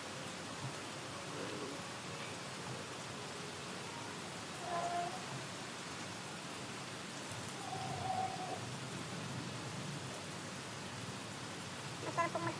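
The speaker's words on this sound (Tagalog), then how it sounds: "ngayon kasi po umuulan" Rain falls steadily outdoors in a garden where potted plants are being repotted, a soft continuous hiss with a few faint drips, fairly distant and even throughout.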